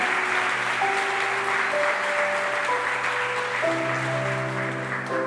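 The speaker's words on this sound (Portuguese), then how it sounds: "Aplauda Ele" Congregation applause during a church service, a steady wash of clapping from many people held throughout, with sustained organ or keyboard tones underneath.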